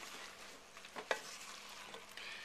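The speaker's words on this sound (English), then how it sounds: "we're going to put the sausage back in" Sausage being added back into a pan of mushroom ragu, giving a quiet steady sizzle with a soft clatter and scrape near the middle, close and faint.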